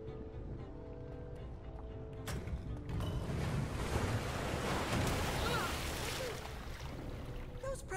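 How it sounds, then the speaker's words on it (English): Rushing water pours down steadily in a Minecraft Story Mode dungeon as pressure plates release waterfalls upstairs, a dense, broad roar that swells after the first couple of seconds and stays loud throughout. "Those pressure plates release waterfalls upstairs."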